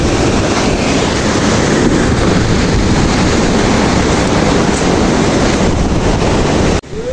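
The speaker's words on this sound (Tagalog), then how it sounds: "kung mapapansin nyo talaga namang napakalakas ng alon" Strong ocean waves crashing and roaring, a loud continuous surf rush mixed with heavy wind buffeting the microphone, cutting off abruptly near the end.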